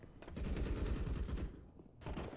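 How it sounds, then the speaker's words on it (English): Rapid automatic gunfire in Counter-Strike on the Nuke map, including AUG rifle fire, rattles loud and dense for most of the stretch, pauses briefly, then bursts again near the end. "JPBT with the AUG uses that acute angle that you can pretty much abuse with an AUG to find a frag"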